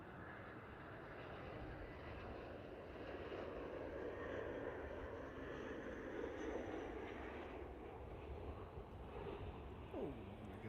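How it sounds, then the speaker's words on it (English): An easyJet Airbus A320 airliner lands at Liverpool Airport, giving a steady, moderately loud jet roar that holds evenly throughout with a faint rising whine near the end. "There's touchdown there from the easyJet."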